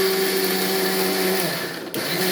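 An electric mixer grinder whirs at a high steady pitch while grinding food to a paste, loud and close, its tone dipping briefly near the end as it stops and restarts.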